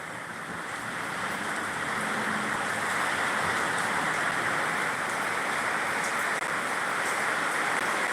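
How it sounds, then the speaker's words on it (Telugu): Heavy rain falling in Anantapur district, a dense, even roar of downpour that builds slightly in the first second and then holds steady and loud, with no voices. "వర్షం అయితే కంటిన్యూ అయ్యేలాగా ఉందండి"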